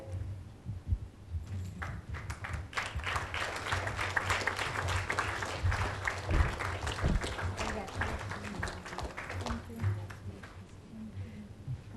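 Audience clapping at a certification ceremony swells after a quiet start into a full, steady round of applause, with low murmuring voices and a hum running beneath the claps throughout.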